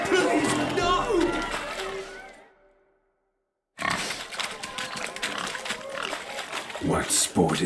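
Pigs grunt and squeal during a village pig chase in The Witcher 3: Wild Hunt, mixed with shouting voices and game sounds, a short silent gap breaking the commotion midway.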